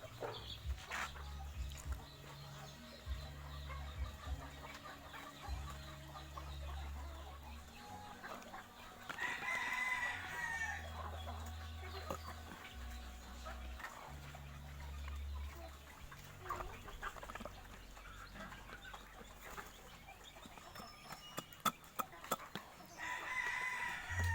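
Chickens cluck and a rooster crows during feeding time, with the calls scattered across a low outdoor rumble and a few sharp knocks near the end.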